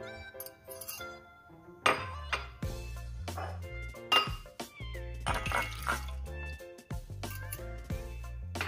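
Glass clinks and liquid sloshes as water is stirred into beaten eggs in a bowl for steamed eggs, with repeated close, bright taps of utensil on glass and soft splashing in an uneven rhythm.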